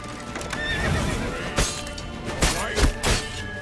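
A horse in The Witcher 3 whinnies amid clopping hooves and several heavy thuds, all loud and close within a busy game soundscape.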